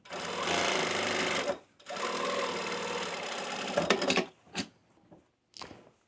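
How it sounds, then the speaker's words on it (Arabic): A sewing machine stitches the upper face of a tailored garment to close an opening, running in two steady bursts of about a second and a half each, followed by a few short clicks and bumps, close and clear with no talking. "هلا بنعمل خياطة الوجه اللي فوق أول شي عشان تمسك هاي الفتحة اللي هون."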